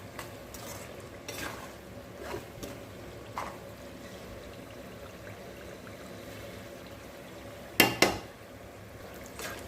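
Ginger and raw mango thokku being stirred in a pan as the oil begins to separate, with soft steady scraping, low sizzling and a sharper clatter of the spoon against the pan near the end.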